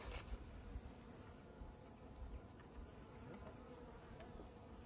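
Many wasps or bees buzz around a honeycomb, a dense steady swarm drone surrounding the listener, faint overall, with occasional nearer passes.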